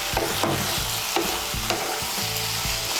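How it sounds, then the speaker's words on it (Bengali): Ash gourd and prawns frying in a pan over high heat, giving a continuous loud sizzle broken by repeated scraping stirs of a utensil against the pan, with no talking. "আঁচটা বাড়িয়ে দিয়ে আরও আমি 2-3 মিনিট রান্না করে নেব।"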